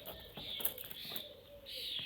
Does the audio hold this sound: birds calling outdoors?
yes